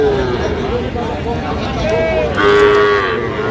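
A bull calf moos loudly and close by at a busy cattle market, with two drawn-out calls over a constant murmur of voices and crowd noise.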